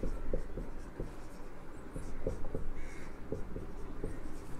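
Chemical formulas for group 15 hydrides written by hand, a quick series of close pen taps and scratching strokes in uneven rhythm, with no talking.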